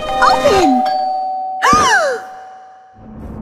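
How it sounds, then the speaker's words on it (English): A cartoonish ding-dong doorbell chimes inside a Minecraft game, two bright descending tones a moment apart, with excited voices talking over and between the chimes. "that was the doorbell!"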